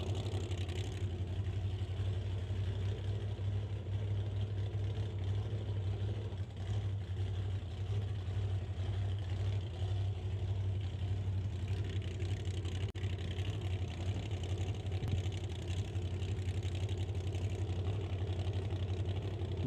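Supercharged Chevrolet Camaro drag car with a big blower under its hood scoop, idling steadily with a deep, low rumble that holds constant and close throughout at a drag strip.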